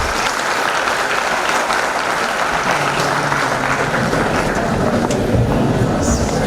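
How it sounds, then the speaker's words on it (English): An audience at a pharmaceutical seminar on nitrosamine control applauds in a loud, continuous, dense roar of clapping that holds steady throughout. "Shall we all give her once again a round of applause?"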